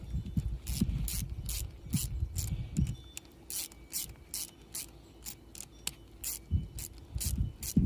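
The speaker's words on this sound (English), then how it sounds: "Got these on here snugged up, so I can just tighten everything up." Clamps on repaired wire rope are tightened with a wrench, producing a series of close, crisp ratcheting clicks in quick bursts with brief pauses between turns.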